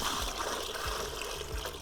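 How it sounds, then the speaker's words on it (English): Water trickles steadily into a bucket from a tank on the Canning Stock Route, a continuous close splashing stream with a few dull low thumps, no talking. "Try and pour it into that bucket."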